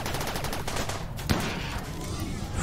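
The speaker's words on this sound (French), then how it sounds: "Allez, le fusil à pompe." Shotgun fire crackles in the colony video game RimWorld as a dense, rapid volley of overlapping gunshots with a sharp crack partway through, loud and continuous, with no talking.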